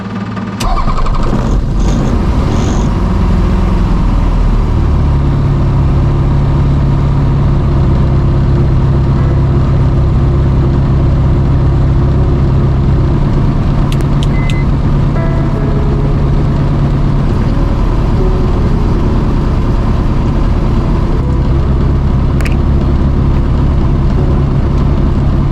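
A light aircraft's piston engine coughs and catches, then settles into a loud, steady, rumbling idle close by that holds unbroken for over twenty seconds.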